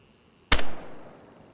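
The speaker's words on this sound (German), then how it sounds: "Alter, wie spät die Explosion kam." A single sudden explosive bang of a gas station in the video game DayZ, close and sharp, trailing off in a brief rumbling decay over quiet background.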